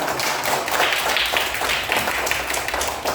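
Children clapping hands together in an elementary classroom during a religion lesson, a fairly loud and close burst of mixed claps with a loose rhythmic pattern throughout.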